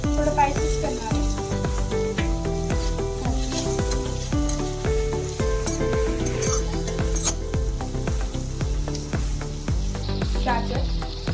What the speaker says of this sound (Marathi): छान परतून मिरच्या थोडं स्पायसेस करणार आहे.